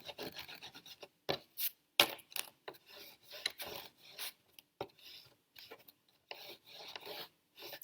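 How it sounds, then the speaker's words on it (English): A craft stencil for a mixed media tag is wiped clean, giving quiet, brisk rubbing and rasping strokes in short irregular bursts, close by with no talking. "I'm just wiping my stencil, so it's all nice and sparkly."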